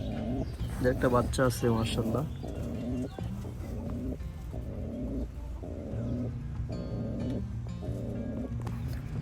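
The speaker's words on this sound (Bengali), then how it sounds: "সিরাজি কবুতরের পেয়ারটা এখানে" Sirazi pigeons coo in a repeated rhythmic series of low, soft calls, close by, while someone talks over them.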